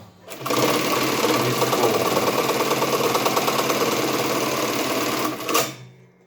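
A Jack JK T1900 industrial bartack sewing machine runs a dense, steady stitching cycle for about five seconds, bartacking layers of military webbing and Cordura, loud and close, starting and stopping abruptly with no talking.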